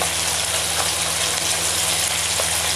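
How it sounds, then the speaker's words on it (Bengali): Five large koi fish fry in a pan with a dense, steady sizzle of hot oil, close and loud, continuing without a break. "এখানে পাঁচটা মাছ ভাজি হচ্ছে"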